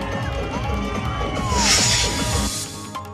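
A crowd of party workers cheers and whoops loudly at a political rally, the noise staying dense and steady before swelling into a louder burst of excited shouting that then eases back.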